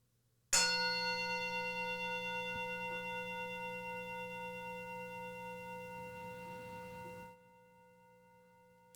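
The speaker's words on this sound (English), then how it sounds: "I'm going to sound the bell 1 time to begin the meditation" A single meditation bell strikes once at the start of a meditation session, ringing loud and clear, then sustaining a steady, shimmering tone that slowly decays for about seven seconds before cutting off into silence.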